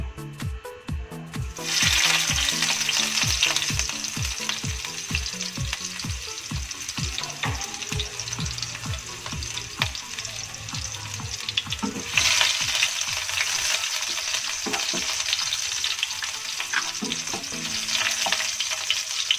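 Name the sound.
shallots and garlic frying in hot oil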